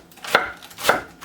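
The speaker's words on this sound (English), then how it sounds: "You want to get the lettuce nice and thin." A knife chops lettuce thinly on a cutting board, giving two crisp, close chopping strikes about half a second apart over a quiet background.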